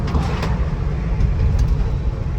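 A Land Rover Defender 90 TD5 soft top on the move, its diesel engine and road noise forming a loud, steady, close low rumble with no breaks throughout.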